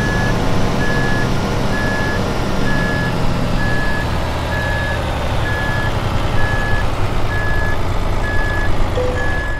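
A Renault Magnum truck in Euro Truck Simulator 2 reverses with its engine rumbling under a steady, evenly spaced series of about a dozen reversing beeps, and there is no talking.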